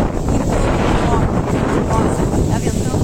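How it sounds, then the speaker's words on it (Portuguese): Strong outdoor wind buffets the microphone in a constant, loud roar with gusty low rumble, filling the whole moment without pause. "Está ventando muito aqui."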